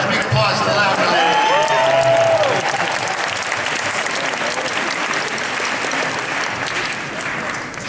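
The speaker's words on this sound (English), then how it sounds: "Big applause for the Lavender Lady" An audience at Vancouver Fan Expo 2014 claps in a steady, dense wash of applause that slowly tapers, with a voice calling out briefly near the start.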